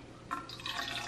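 Water is poured into a container for a protein shake, a short, quiet splash and trickle that begins after a moment of near silence and continues softly to the end.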